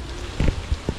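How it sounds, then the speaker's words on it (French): A heavy downpour drums near a rocky shelter at a fishing spot, a continuous loud wash of rain with a few low thuds and splashes breaking through. "Voilà, c'est le déluge les gars."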